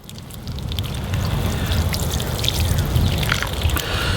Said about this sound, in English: I'm going to just water these in real good